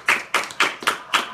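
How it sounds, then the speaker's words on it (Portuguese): Five crisp, close claps in a steady rhythm from a religious gathering, clapping joyfully in praise, with no talking over them. "Vamos aplaudir ao Senhor,"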